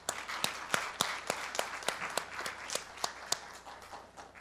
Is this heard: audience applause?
yes